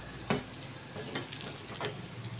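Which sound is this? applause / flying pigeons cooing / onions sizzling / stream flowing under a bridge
onions sizzling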